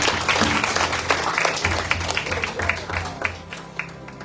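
A church congregation at a Sunday evening retreat in Margao claps hands together, a dense, lively patter of many hands that carries on steadily across the whole moment, close and fairly loud.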